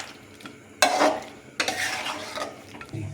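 Chicken masala being stirred in a pan with a ground paste of melon seeds and peanuts, sizzling as a spoon scrapes the pan in two firm bursts, close and fairly loud, with no talk.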